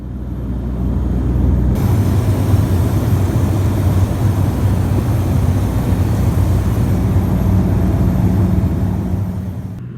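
Airliner cabin noise during descent into Calgary: a loud, steady, low droning rumble with broad airflow hiss that holds unchanged for the whole stretch, with no talking.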